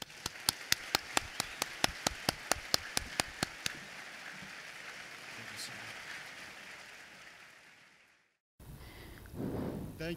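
A handful of distinct, evenly spaced claps ring out at a lecture inaugurating an economic freedom centre as a guest speaker is welcomed, then fade into room hush before a voice begins speaking.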